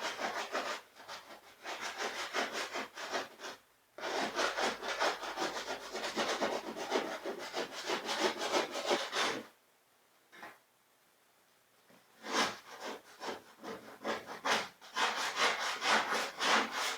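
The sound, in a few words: scraping a hide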